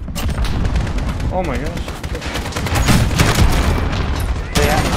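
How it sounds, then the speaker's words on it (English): Gunfire and grenade blasts from a Modern Warfare multiplayer match rattle on loudly and steadily, with bursts and booms packed together, while a player talks over the combat. "I am done with these stupid freaking grenades."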